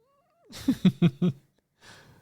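A cat gives a short burst of three or four quick, close, fairly loud meowing cries in a row, followed by a brief fainter rustle. No one talks.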